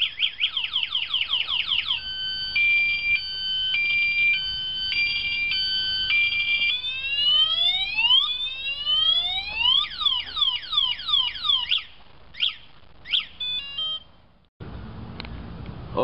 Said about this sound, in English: By pushing the red button, lock button, the alarm is activated.